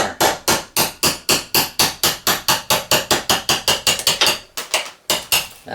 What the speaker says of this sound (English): we're going to see if we can't just knock that out with a punch and a hammer